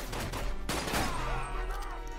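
Pistol fire in the video game 007 Quantum of Solace: a couple of sharp shots ring out amid loud, dense in-game action noise, with a short rattling burst near the middle.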